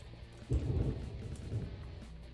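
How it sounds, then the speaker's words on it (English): Distant thunder outdoors, a low muffled rumble that swells suddenly and rolls on faintly for a couple of seconds before fading. "Got some thunder and lightning out here, guys."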